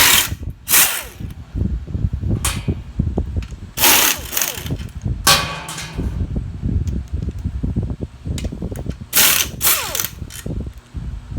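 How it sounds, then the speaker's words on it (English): An impact wrench removes bolts from the engine of an airplane tug that has a plastic crankshaft gear, delivering several loud, short rattling bursts separated by pauses and clanking handling noises. "I'll take them off with an impact"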